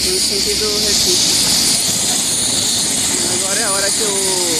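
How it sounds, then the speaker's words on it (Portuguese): A rescue helicopter sits on highway BR-101 toward Recife at a motorcycle accident scene, its turbine and rotors giving a loud, continuous close roar, with voices talking over the din. "O helicóptero tá aqui, ó,"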